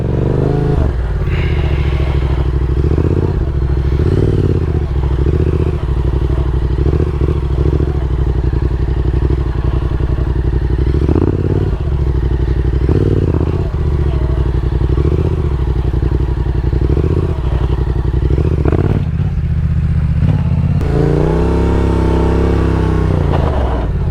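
A motorcycle engine idles loudly and steadily at close range, with several revs rising and falling throughout and one stronger rev near the end.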